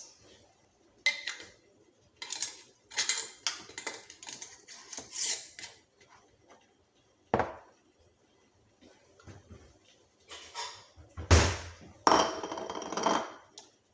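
Glass canning jars and their metal lids clink and knock on a kitchen counter while cranberries are being jarred, a scattered series of sharp, close taps and clatters with quiet gaps between them.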